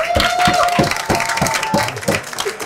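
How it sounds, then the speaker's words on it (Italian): Lively audience applause, a burst of rapid, dense clapping that carries steadily for a few seconds without a break, fairly loud and close. "Un applauso!"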